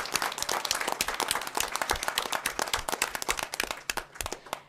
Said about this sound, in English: if we could give them another round of applause for a job well done.